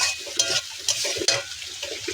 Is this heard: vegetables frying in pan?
yes